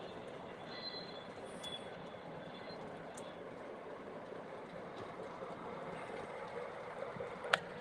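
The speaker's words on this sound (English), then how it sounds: "Just running some trains" Model trains run along their track with a steady low rumble and faint wheel squeal, a few small clicks and a sharp tick near the end, with no talk over it.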